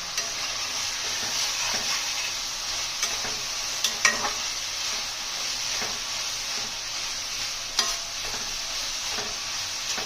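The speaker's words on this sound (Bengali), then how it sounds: "পেঁয়াজটা নরম হওয়া অবধি ভেজে নেবো" Onion and garlic frying in oil in a new kadai make a loud, continuous close-up sizzle with intermittent clicks and scrapes of stirring, and no voices.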